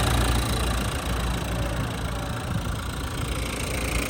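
A Renault Kangoo 2019 1.5 diesel engine idles smoothly at close range, a low continuous rumble with an even hum and no interruptions or voices.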